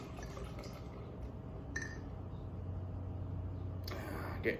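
Hacker-Pschorr Oktoberfest Märzen beer is poured into an oversized mug, a soft liquid gurgle and fill with a couple of brief glassy clinks, fairly quiet and close.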